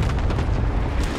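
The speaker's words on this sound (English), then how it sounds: "Airstrike deployed at my mark." Airstrike explosion in Call of Duty: Modern Warfare, a sustained dense rumbling boom filling the whole short moment, loud and close with no pause.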